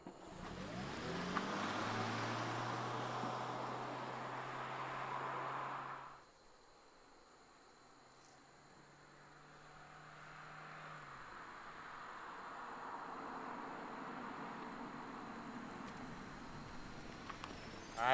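A 2023 Toyota Corolla SE hybrid, Infrared Edition, starts up and pulls away with a quiet, faint whine and low hum that dips after about six seconds, then rises again into soft rolling road noise.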